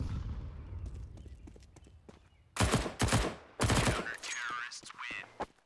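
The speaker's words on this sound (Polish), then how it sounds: "Ładnie mi strzelił" Gunfire in a bomb-defusal shooter game: several sharp loud bursts of shots in the second half, following a quieter stretch of movement and clatter.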